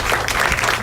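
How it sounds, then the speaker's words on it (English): Audience applause for the speakers at a kick-off speeches event, a steady dense wash of clapping from a crowd, loud and continuous through the whole short burst with no voices over it. "please give a round of applause to all of our speakers today"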